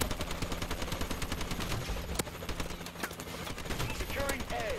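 Rapid bursts of automatic gunfire crackle continuously in a Call of Duty: Advanced Warfare online match, close and loud, with a few sharper single shots and a faint voice underneath.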